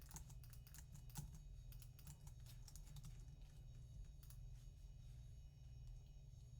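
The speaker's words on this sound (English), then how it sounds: "I'm just going to type in some random information here" Rapid clacking keystrokes on a computer keyboard come in quick irregular bursts as random details get typed into an order form, close and quiet with no voices.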